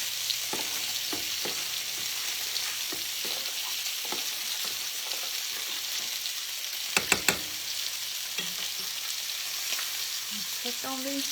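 Pork chops, squash and zucchini fry in a pan on low heat, giving a steady, quiet sizzle with a few sharp utensil knocks around the middle.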